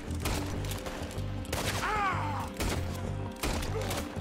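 Arthur fires guns in the western game Red Dead Redemption 2: a fast series of loud shots in repeated bursts, with a short whistling sweep in the middle and no talking.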